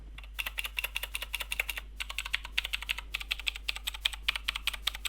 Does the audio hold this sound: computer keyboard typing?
yes